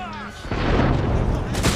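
Matchlock gunners fire a volley in the feudal Japan strategy game Total War: Shogun 2, a dense crackling, booming roar that holds steady for over a second, then a sharper burst near the end.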